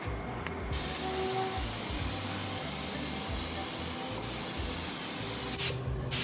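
Primer is sprayed onto an old-school hot rod race car body, making a steady, loud, close hiss that runs almost continuously, with brief breaks at the start and end.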